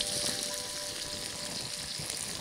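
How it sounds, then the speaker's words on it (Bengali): Chopped onions, about a cup, hitting hot oil in a pan and frying with a loud, continuous hiss and crackle, close up with no voices. "তেলটা গরম হলে আমি সেখানে কিছু পেঁয়াজ দিয়ে দেব, পেঁয়াজ কুচি।"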